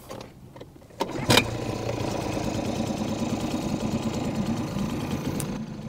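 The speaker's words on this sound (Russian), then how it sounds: "Мы заводим двигатель." A boat's outboard engine cranks and catches, then settles into a steady, fairly loud running drone on the water before downrigger trolling.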